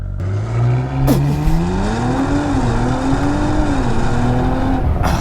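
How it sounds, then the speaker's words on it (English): A 2023 Audi RS4 B9 with its V6 engine launches hard under launch control, the engine revving loud and close, then rising steadily through the gears as the car accelerates, with no talking. "ESP off, left foot on the brake, right foot on the throttle, push it a little bit and then go."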